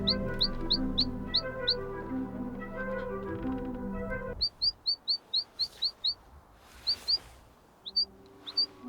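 Small birds on a cold January morning give a run of sharp, high chirps in quick rhythmic bursts, first over a soft musical backdrop and then alone in a quiet setting.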